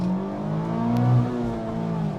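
The naturally aspirated engine of a 2025 Mazda MX-5 35th Anniversary Edition sings with a smooth, close rev that rises and falls briefly in tone, with no talking.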